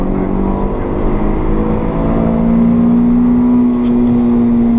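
Honda Civic ED7 accelerating on a race circuit, a loud sustained engine drone rising in pitch from inside the car, with people talking over it.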